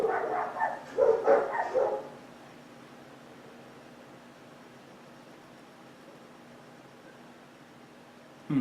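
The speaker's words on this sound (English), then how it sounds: "My dogs are going crazy." Dogs barking in a short, loud flurry of overlapping yaps and barks at home, then near silence with faint background hiss before one last brief bark at the end.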